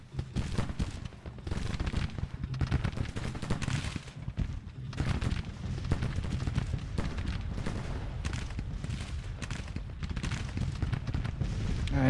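Musket volleys in the Civil War strategy game Grand Tactician: The Civil War 1861-1865, a continuous rolling crackle of massed fire with distant booms, steady and dense for the whole stretch.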